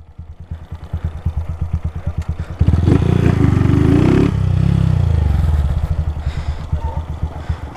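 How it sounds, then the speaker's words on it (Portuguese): A Honda Start 160 motorcycle fitted with a Dore exhaust idles close by with a rough, pulsing beat, then briefly revs up to a louder, steady drone before settling back into its uneven idle. "Olha como é que tá a lenta da moto"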